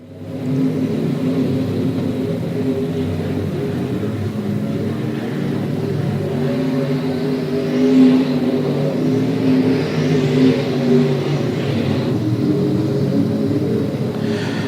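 Dirt late model race cars roar through a heat race at Moler Raceway during Buckeye Late Model Dirt Week, a continuous heavy engine rumble that swells slightly as cars pass, with no talk.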